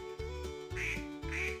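A duck quacks in a short series of nasal, repeated calls, close and fairly quiet, with no voices in between; the quacks come from a farm-animal counting song for children.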